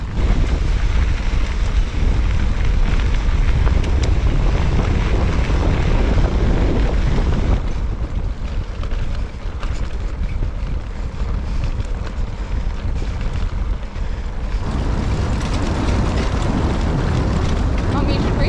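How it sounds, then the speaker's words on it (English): A strong headwind roars across the microphone while cycling in Zambia near the source of the Kafue River, a loud, continuous buffeting rush that never lets up for the whole stretch. "apart from the horrendous headwind that we have"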